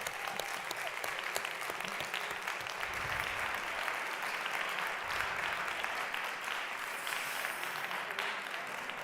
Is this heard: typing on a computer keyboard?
no